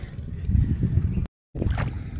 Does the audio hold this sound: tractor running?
yes